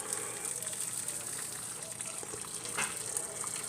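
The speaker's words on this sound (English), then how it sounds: "I'm just putting some boiling water on it" Boiling water poured over cold, refrigerated turkey bones in a pot, a steady gushing splash with a faint sizzle that runs the whole time at moderate, close range.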